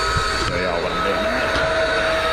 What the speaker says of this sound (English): Just a little vacuum cleaner, DeWalt vacuum.